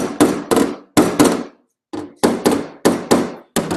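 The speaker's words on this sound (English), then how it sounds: "all you have to do is tap it with a hammer" A body hammer taps a dent in a car panel, about ten sharp metallic knocks in uneven pairs and singles with a brief pause midway, loud and close.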